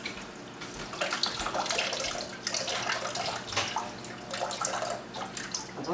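Water pours steadily from a tap into a bath, a dense continuous splashing rush that stays loud throughout with no voices.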